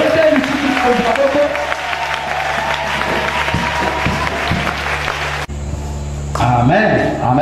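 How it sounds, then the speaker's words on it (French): A church congregation at a worship service in Impfondo, 2015, applauds in a dense, steady wash of clapping that thins out near the end, with voices mixed into the crowd noise. "Ah, hein, applaudissons encore."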